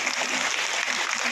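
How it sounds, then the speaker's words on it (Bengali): Audience clapping at a Trinamool Congress workers' meeting inside a hall, a dense, even burst of many hands applauding close together for a short moment. "আমাদের সকলের করতালি দিন।"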